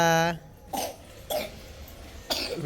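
A voice at the start is followed by three short, sharp coughs spaced about half a second apart, close and fairly loud.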